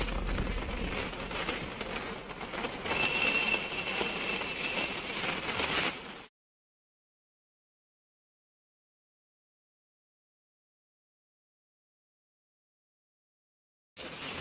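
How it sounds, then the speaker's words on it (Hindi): Heavy rain falls in a steady, soft hiss for about six seconds, then the sound cuts to silence before briefly returning at the very end. "अब देखो इतनी तेज बारिश हो रही है, देखिए।"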